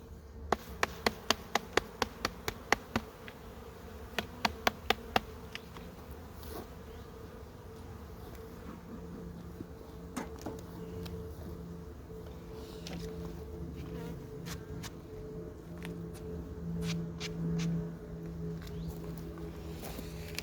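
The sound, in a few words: honeybees buzzing around an opened beehive frame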